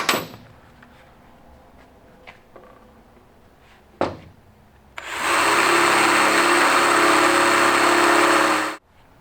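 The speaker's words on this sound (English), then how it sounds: "then we'll use our drill bit here" A few sharp knocks, then a power drill whines loudly and steadily for several seconds while drilling out a rivet, before cutting off.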